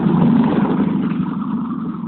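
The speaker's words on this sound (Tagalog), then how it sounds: "Pero bakit parang tunog tricycle?" A tricycle engine approaching on a street, a loud, rough motor drone that is strongest at first and then eases slightly, with no talking over it.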